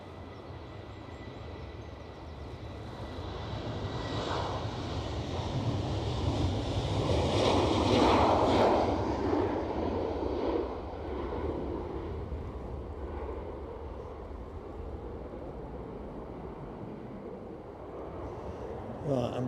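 A jet airliner takes off at Edinburgh Airport in strong gusting wind, its engine roar building to a broad peak then slowly fading into distance, mixed with steady wind rumble.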